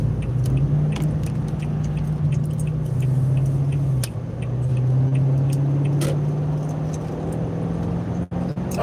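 Car driving along a road toward Radcliffe, a steady low engine and road rumble heard from inside the cabin, continuous and close, with small clicks and faint rattles over it.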